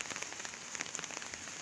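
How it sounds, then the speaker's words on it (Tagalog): Steady light rain falling on surfaces below a rooftop during a typhoon, a soft continuous patter with scattered distinct drops, fairly faint and with no voices. "Hindi tumitigil yung ulan."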